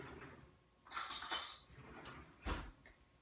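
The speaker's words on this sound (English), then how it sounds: "I'm just going to gently toss my fresh blueberries and lemon zest into the rice, the hot rice" A spoon tosses fresh blueberries and lemon zest into hot wild rice in a pot, giving a few soft clinks and scrapes, with a brighter burst near the start and a short knock later, close and fairly quiet.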